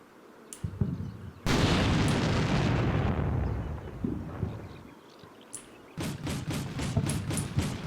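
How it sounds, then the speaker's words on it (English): Explosions in the video game Combat Mission: Shock Force 2: a sudden heavy boom rolls off over several seconds amid scattered smaller blasts, then a rapid string of sharp bursts closes the passage. "Always unnerves me when I hear these giant explosion sounds."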